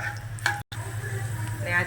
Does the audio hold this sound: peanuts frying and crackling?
yes